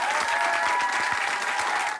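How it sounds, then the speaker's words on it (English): A studio audience at a reunion show for The Challenge applauds for the champions, dense and continuous clapping heard alone at an even level before it cuts off. "let's get a round of applause for Rivals 3 champs, Sarah and Bananas"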